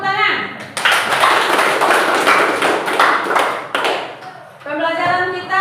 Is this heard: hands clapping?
yes